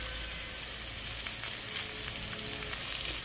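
Chana dal, urad dal, fenugreek and other spices fry in hot oil, making a faint, continuous, even sizzling hiss with no talking.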